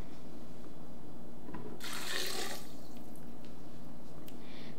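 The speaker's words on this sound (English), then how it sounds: "And now we'll add our water." A brief gush of water pours into a blender over cashews for about a second, splashing loudly against a steady background hum.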